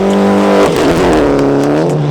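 Mitsubishi Evo 9 rally car on a track, a loud, close engine droning at steady high revs, then dropping in pitch as it shifts and pulls on.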